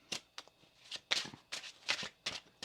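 Tarot cards being shuffled by hand, a series of about eight quick riffling bursts in an uneven rhythm, close and crisp with nothing else heard.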